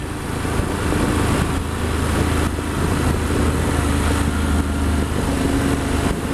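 Steady engine drone of a motorcycle cruising on a night ride, a continuous close hum with wind noise and no talking.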